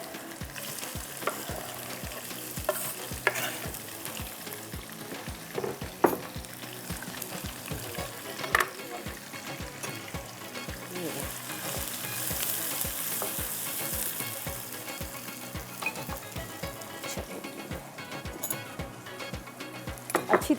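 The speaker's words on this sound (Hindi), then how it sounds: "लेती हूँ यहाँ पर प्याज, जिसको मैंने थोड़ा मोटा मोटा चॉप किया है, इसको हम ब्राउन करेंगे, ठीक है, अच्छे से ऑयल के साथ" Coarsely chopped onions fry and brown in oil with garam masala, a steady close sizzle running throughout, broken by frequent sharp scrapes and knocks of a stirring spoon against the pan.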